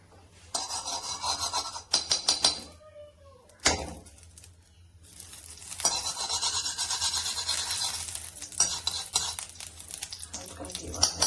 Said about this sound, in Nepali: आज चाहिँ हल्का बेलुकाको भात उफ्रेको छ, त्यसलाई नै म भुटिदिनु लागेको घिउमा हालेर